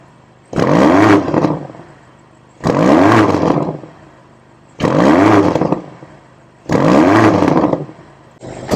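2024 BMW XM Label engine revved in Sport Plus with the rev limiter set near 4,500 rpm: four loud, separate rev bursts, each rising and falling over about a second, with short quiet idle gaps between them.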